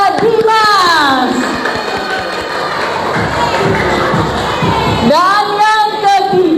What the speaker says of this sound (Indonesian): Beri aplaus untuk Bapak Dimas